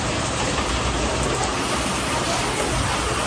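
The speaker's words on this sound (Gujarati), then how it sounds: "આજે રાંધણ છે ને વરસાદ આવે છે, સરસ મજાનો વરસાદ આવે છે." Steady heavy rain falling outside, a dense continuous wash of noise with no let-up.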